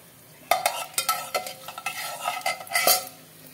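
Whole spices (cinnamon, cloves, small cardamom and rose petals) frying in oil for pulao, heard as a soft close sizzle under repeated clinking stirs and scrapes of a utensil against the pan, no voices.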